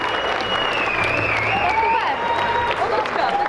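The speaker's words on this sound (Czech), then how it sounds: "Prosím, potlesk pro člověka, který tohle má víceméně tady na svědomí." Steady, dense applause from a crowd at a school graduation ball for the Gymnázium Jihlava class of 2015, filling the hall evenly throughout with faint tonal sounds mixed in.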